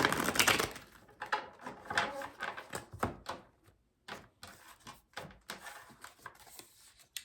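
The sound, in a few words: shuffling tarot cards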